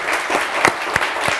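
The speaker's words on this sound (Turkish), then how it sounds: "Bir daha alkış lütfen." A studio audience claps on request during a Turkish television word-game show, a steady crowd patter of many hands with a few sharper individual claps standing out from the even, sustained wash.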